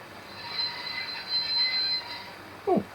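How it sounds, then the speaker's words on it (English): A steam locomotive's brakes give a thin, high squeal that holds steady over a low rumble. A short, louder screech comes near the end. "Oh, nice little brake squeal there."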